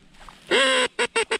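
Green-winged teal ducks flying in during an October waterfowl hunt in Minnesota, giving one long nasal call followed by three short, evenly spaced calls, close and clear with no talk.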